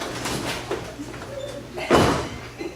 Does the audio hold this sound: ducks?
no